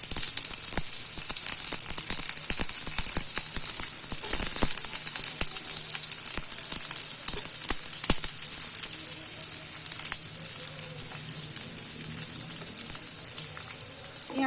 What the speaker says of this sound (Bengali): তারপরে পেঁয়াজগুলো আছে একটু ভেজে নেব।